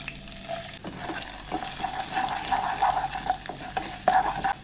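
Washed urad dal frying and being stirred in hot sesame oil, a steady close sizzle with scraping stir strokes and brief louder bursts, no voices.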